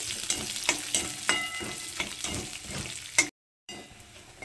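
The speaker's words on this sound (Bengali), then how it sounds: "তো রসুনটাকে একটু হালকা ভেজে নেব" Chopped garlic fries lightly in a small amount of leftover oil for a chilli mushroom dish, crackling with a steady close sizzle punctuated by sharp stirring scrapes before a brief silent gap.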